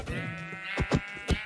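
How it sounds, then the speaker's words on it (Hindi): A goat in the Minecraft video game bleats loudly and nearby with a wavering, harmonic cry, then gives several short bleats in quick succession. "वाह, बकरी"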